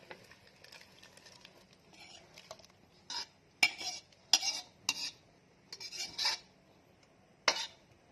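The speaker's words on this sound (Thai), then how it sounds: "เราจะใส่เครื่อง ไปในหม้อข้าวต้มเราแล้วนะครับ" Ingredients go into a pot of Thai rice porridge with clinking utensils and metallic scraping against the pot, quiet at first, then sharper clatters and stirring knocks in irregular bursts.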